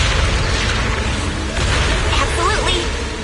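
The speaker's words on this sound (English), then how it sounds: "Explosions." Explosions in an action video game, a dense continuous roar of booms and bursts with scattered electronic chirps, loud and close throughout.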